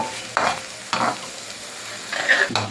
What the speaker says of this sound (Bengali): তো এখন ভালো করে কষিয়ে নিচ্ছি